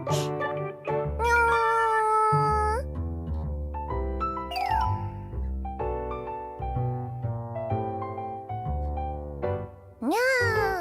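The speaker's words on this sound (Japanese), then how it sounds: "猫だ。" Cartoonish cat meows from an anime-style game scene, several drawn-out rising and falling mews over a bed of background music, clear and fairly loud.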